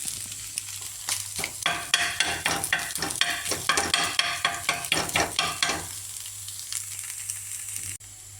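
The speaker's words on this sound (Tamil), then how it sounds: "இப்போ மட்டன் குழம்பு கொஞ்சம் ஊற்றி நல்லா கொத்தி விட்டாச்சு." Egg kothu parotta with mutton curry being chopped and stirred on a griddle: rapid rhythmic metal clanks of spatulas over a steady sizzle, close and loud, then a quieter hiss as the chopping stops.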